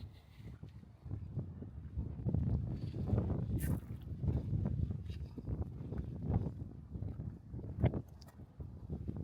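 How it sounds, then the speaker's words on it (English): Strong wind buffets the microphone on an exposed hilltop at Ludwigsburg, Germany, a steady low roaring rumble with gusty swells throughout and no speech. "It's very windy up on this hill"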